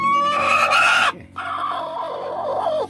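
Brooding hens clucking inside a backyard chicken coop, a close, steady run of loud clucks and throaty calls that break off briefly and then resume.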